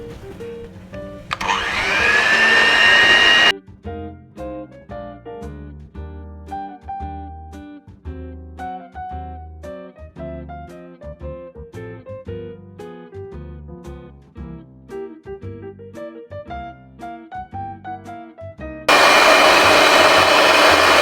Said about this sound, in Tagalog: I'm going to use this electric mixer.